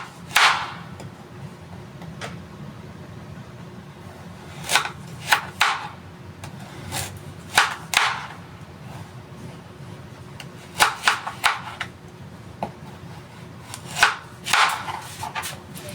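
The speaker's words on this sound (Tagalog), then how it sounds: "hiwain pa natin itong maliliit." A knife chops vegetables into small, thin pieces on a cutting board, with sharp, crisp strikes arriving in irregular clusters and isolated single cuts against a quiet background.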